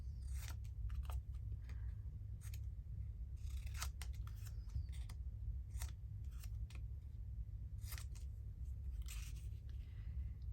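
Scissors snip through fabric lace in a run of crisp, irregular cuts, close and clear over a steady low hum, with no talking.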